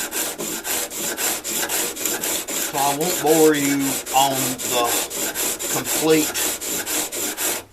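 Planer blades sharpened by rubbing them back and forth on sandpaper, a steady rhythmic rasping stroke repeated roughly every quarter second, close and fairly loud, with someone talking over it.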